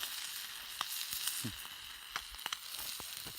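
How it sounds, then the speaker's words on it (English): Quiet, steady sizzling of Spam frying in a very large pan, with scattered small pops and crackles popping up throughout. "The Spam is frying, that's the noise you hear."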